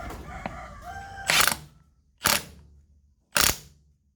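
A Milwaukee M12 Gen 3 impact wrench with a 19 mm socket tightens a bolt in three loud, separate bursts of hammering, each lasting about a quarter second with short pauses between.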